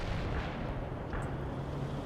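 A nuclear strike explosion in the video game World in Conflict, a loud, dense, continuous rumbling roar with heavy low-end booming that sustains for about two seconds, with no voices.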